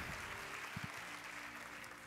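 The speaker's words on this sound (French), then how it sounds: "un tonnerre d'applaudissements pour la vainqueur du prix Petites et Moyennes Entreprises." Audience applause at the European Inventor Award 2018 ceremony, a steady wash of clapping from a large hall that holds evenly throughout, with a couple of brief low thumps partway through.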